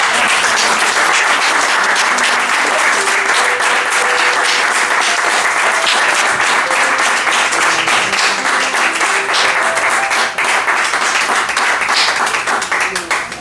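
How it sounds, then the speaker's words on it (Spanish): A church congregation applauds loudly and continuously, a dense wash of many hands clapping close by that holds steady throughout before easing slightly at the end. "¿Puedes darle un aplauso a Jesús?"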